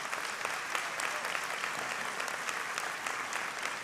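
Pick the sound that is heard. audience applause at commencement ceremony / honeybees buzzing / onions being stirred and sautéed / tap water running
audience applause at commencement ceremony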